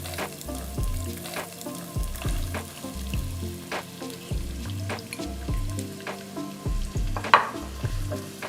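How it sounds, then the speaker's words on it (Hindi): Onions sizzle and fry in hot ghee with whole spices, a steady dense crackle with occasional stirring clatters of a utensil against the pan, close and continuous throughout. "प्याज फ्राई कर लेंगे।"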